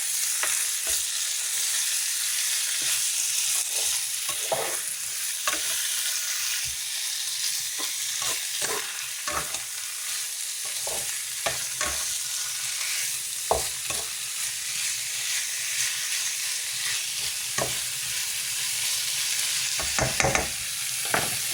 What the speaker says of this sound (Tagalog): Tapos, ilagay natin ang beef. At saka paghalo-haloin po natin yan.